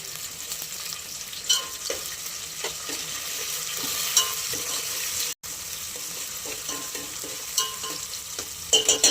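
Tomatoes are stirred into rice in a pot with a continuous sizzle and scraping utensil strokes. A few louder clinks and a brief dropout come near the end, close up and without voices.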